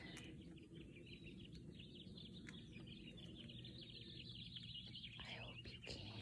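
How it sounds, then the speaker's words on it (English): Faint, scattered bird chirps and calls come from a distance over a low, constant outdoor rumble. "see if you could hear the bird song"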